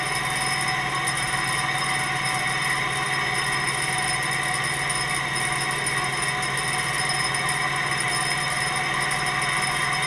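A gamma Stirling engine running at high temperature gives a constant, dense mechanical whir with layered steady tones, loud and unbroken throughout.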